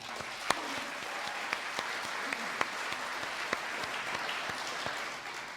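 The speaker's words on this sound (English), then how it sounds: "One more big round of applause for them, please." An awards ceremony crowd applauds steadily, a dense wash of clapping with a few sharper claps standing out, no voices over it.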